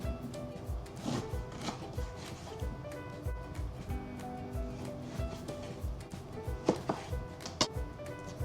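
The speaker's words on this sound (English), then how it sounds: "Cut them in little cubes." A knife dices food into little cubes on a cutting board, a steady run of close, soft chopping taps with a few sharper knocks near the end, no voices.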